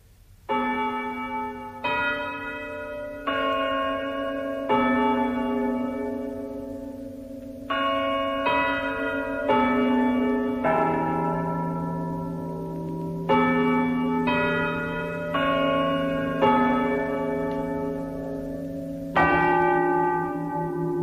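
Several church bells in a radio drama peal one after another, their ringing tones overlapping and sustaining in a steady, unhurried sequence with no other sounds.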